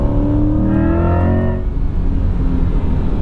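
A 2024 Chevrolet Corvette E-Ray engine accelerates hard, a loud, close, continuous rising drone with no talk over it.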